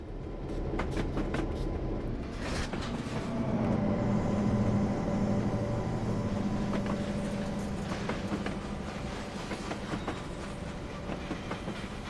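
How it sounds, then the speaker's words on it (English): A freight train with weathered rolling stock rolls past in a Feather River Canyon railroad simulation, wheels clacking in a steady rhythm over a low rumble that swells midway and stays loud throughout. "There's a train."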